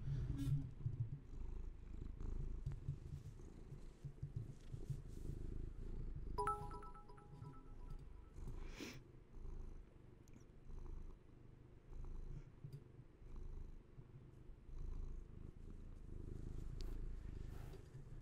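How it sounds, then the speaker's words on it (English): A cat purrs steadily and close up, a low continuous rumble that carries on throughout, with a couple of faint clicks and rustles along the way. "You guys want to hear some purrs real quick before the end of this video?"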